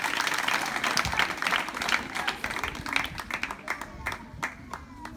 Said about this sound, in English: Please, can we really clap?